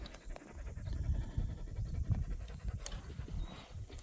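A dog pants rapidly and steadily on a walk in Manawatū Gorge, close by, with quick rhythmic breaths over soft outdoor rustle and footfalls.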